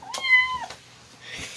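A wet cat being bathed with soap lets out one clear, drawn-out meow, close and fairly loud, followed by faint splashing and rustling.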